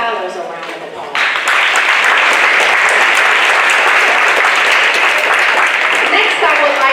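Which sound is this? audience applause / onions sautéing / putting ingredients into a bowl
audience applause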